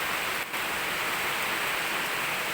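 Steady heavy rain pours throughout a tropical storm, a dense continuous hiss with no distinct drops, only a brief dip near the start.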